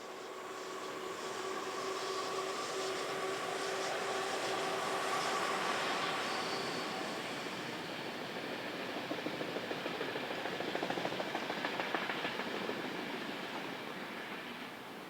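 An old locomotive built from 1967, one of a dwindling class now confined to empty stock workings in Europe, hauls a train past in a steady rolling roar that swells and fades, with a brief tonal whine early and rhythmic wheel clatter later.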